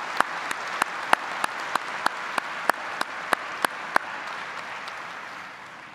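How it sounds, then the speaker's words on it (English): Audience clapping at a high school commencement ceremony, a soft steady patter of applause with a dozen sharper, evenly spaced claps standing out near the microphone before fading toward the end. "Let's give them a round of applause."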